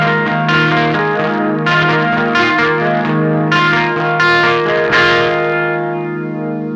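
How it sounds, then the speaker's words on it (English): Electric guitar chords played through a delay pedal set with a slow modulation rate for a chorus-like shimmer, warbling and wide, loud and sustained with strummed attacks, heard alone without talk. "the rate of the LFO is pretty slow. So that's giving us more of like a chorus sound."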